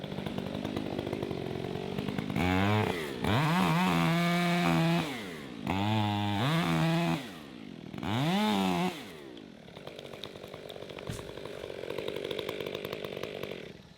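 A chainsaw cuts into a standing tree with no top, revving up in three long, loud bursts with idling pauses between, then winding down to a quieter rumble.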